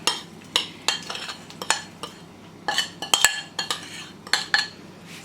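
Biscuit crumb and butter base for a no-bake lemon cheesecake being scraped and tipped into a cake pan, giving repeated close clinks and scrapes of a utensil against the dish in irregular bursts, with no talking.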